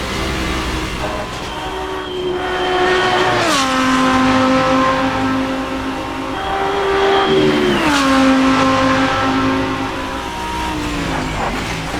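A Radical race car engine in the video game Assetto Corsa, loud and sustained, with the pitch climbing steadily and then dropping sharply at two gear changes before climbing again.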